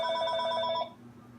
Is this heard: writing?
no